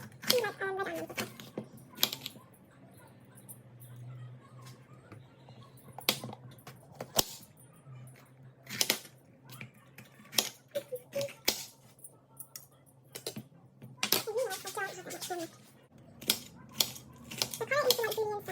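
Knife chopping red onions for chicken fajitas on a cutting board, sharp fast taps in uneven bursts with gaps, fairly close, over a low steady hum.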